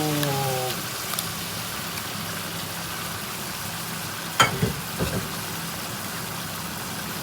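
Eggs fry in a pan with a steady crackling sizzle throughout, a few short clatters and knocks partway through, and a faint tone at the start.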